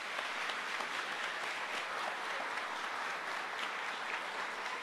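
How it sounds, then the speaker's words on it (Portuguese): An audience at a Christian youth camp applauds in a steady, dense wash of clapping that holds at even loudness for the full span, with no voices over it. "Pode aplaudir, tudo isso nele."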